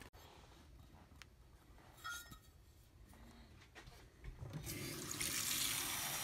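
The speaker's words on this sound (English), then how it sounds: "let's put 2 cups of boiling water in and see what happens." Boiling water, two cups, is poured into a food pouch, starting with faint clinks and trickles, then building to a louder, steady rushing pour toward the end.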